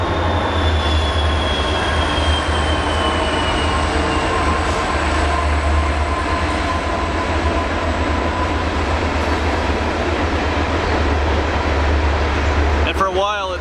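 A train rolls by on a modern railroad with a continuous loud rumble of wheels on rails and a low engine drone, steady throughout, heard from nearby outdoors with no talk.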